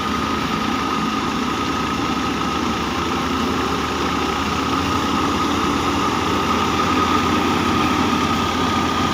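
A wheat thresher driven by a 2010 model Ghazi tractor runs steadily while separating grain, giving a loud, continuous engine drone and mechanical rumble with no break and no speech.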